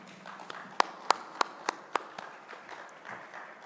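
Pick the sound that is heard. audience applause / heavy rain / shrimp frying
audience applause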